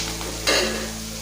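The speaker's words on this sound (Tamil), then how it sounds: "வெங்காயம் இந்த அளவுக்கு வதங்கின பிறகு" Onions sautéing in a pan while a tomato chutney is made, with a steady low sizzle and a brief louder burst of stirring partway through, no talk.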